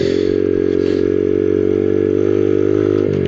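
A Honda Dax 50 motorcycle fitted with a double exhaust, riding along with a loud, steady buzzing engine drone close to the microphone, holding an even pitch before a brief dip near the end.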